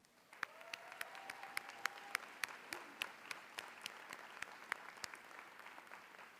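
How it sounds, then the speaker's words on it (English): Applause at a 2016 college commencement ceremony, scattered distinct claps ringing out in a large hall over a softer bed of clapping, fairly faint and distant. "So please give them a round of applause."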